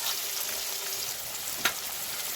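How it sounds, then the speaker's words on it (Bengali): Chopped onion and shredded garlic sizzle steadily in hot refined oil in a pan, with a single brief clink of a spoon near the end and no voices. "এই তেলের মধ্যে দেব কেটে রাখা পেঁয়াজ ওই পেঁয়াজের মধ্যে দেবো এক চামচ মতন রসুন সুতো করা"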